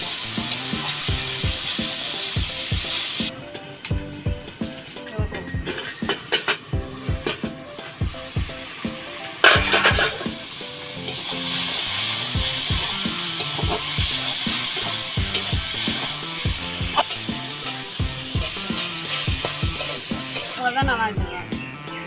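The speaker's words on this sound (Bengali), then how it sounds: "নাড়াচাড়া করে দেবো।" Fish frying with turmeric and salt in a pan, stirred throughout, giving a steady loud sizzle broken by repeated scraping and clattering stir strokes, with no talking.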